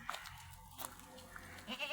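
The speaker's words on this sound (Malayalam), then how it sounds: "നല്ല ക്വാളിറ്റിയുള്ള ഒരു സിരോഹി പെണ്ണാട്ടുംകുട്ടി വിൽപ്പനക്ക്" A young female Sirohi goat kid bleats quietly nearby. A few short, soft cries come at intervals over a faint, calm background.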